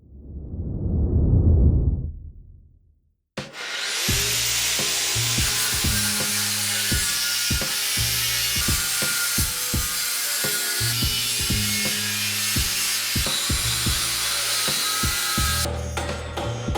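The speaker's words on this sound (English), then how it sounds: "I'm gonna have to bring the angle grinder and cut this bolt in" Angle grinder cutting through the crank hub bolt on a BMW M4 S55 engine, running loud and steady for about thirteen seconds with a harsh high whine and grinding bursts, following a brief low rumble and a short silence.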